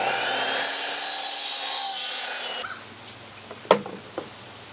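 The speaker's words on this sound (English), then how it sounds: "Cutting a 45-degree miter." A saw cuts a 45-degree miter through wood trim in one continuous rasping stroke run lasting a little over two seconds, then stops, followed by a few short knocks and clatters as the cut pieces are handled.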